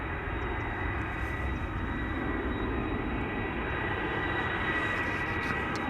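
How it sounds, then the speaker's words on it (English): A KLM Airbus A330-200 jet airliner at Amsterdam Schiphol Airport roars loudly and steadily throughout, a dense, continuous engine rumble with no talk over it. "Now, if you're wondering, am I hearing A330 engines?"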